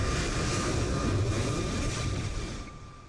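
An airliner departs with full flaps in Microsoft Flight Simulator 2020 at a simulated Kai Tak airport, its steady broad engine roar holding loud for about three seconds before easing slightly at the end, with no talk over it.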